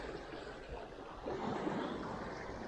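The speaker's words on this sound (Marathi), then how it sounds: "पाणी इथे मित्रांनो जोरात भरत आहे" Sea water surging in at the shoreline in Mumbai, a steady broadband wash of surf that swells slightly louder midway and continues without any voices.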